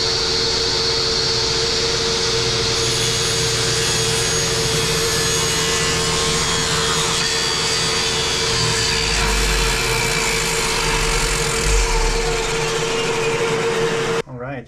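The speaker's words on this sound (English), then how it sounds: "we're gonna do some cross cutting and then I'll show you guys some rips" A saw crosscuts wood while a Ridgid shop vac roars alongside, a loud sustained whine with the cutting load rising toward the end, then everything winds down abruptly.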